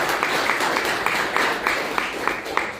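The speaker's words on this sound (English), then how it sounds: "Round of applause." An audience in a room at a golf tournament media day applauds, a steady close clatter of clapping with a regular pulsing beat.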